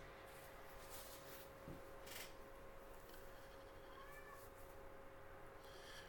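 A single faint, short cat meow rises briefly out of a steady indoor hum and background hiss, with a soft rubbing sound and no talking.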